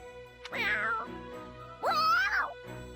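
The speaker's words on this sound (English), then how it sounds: "she's having a staring contest with a cat" A cat meows twice in the video game Fire Emblem Warriors: Three Hopes, each a clear, drawn-out, close tonal cry about a second long, over a faint steady musical hum.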